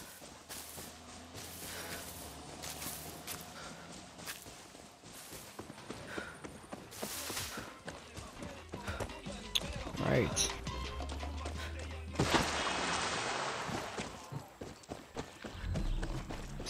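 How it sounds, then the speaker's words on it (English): Horses running in the Far Cry 6 video game, hooves clip-clopping in a steady galloping patter with crashes and game noise over it, while someone talks across the clip. "Why are those horses running?"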